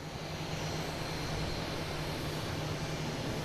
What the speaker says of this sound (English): We have Alaskan Airlines in the alley here, making all that racket.